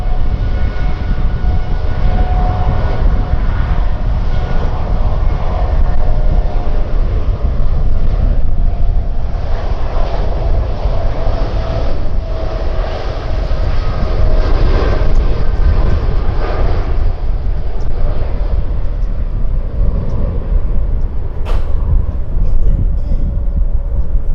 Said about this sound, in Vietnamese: Boeing 7879 Dreamliner của Corona cất cánh rời khỏi sân bay Tân Sơn Nhất hướng về sân bay Incheon